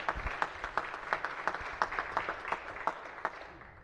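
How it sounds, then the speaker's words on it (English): Applause for Senate pages during a state Senate floor session, a modest scattering of distinct hand claps in a large chamber, fairly distant and fading toward the end. "So if you could give them a round of applause as they receive their citation."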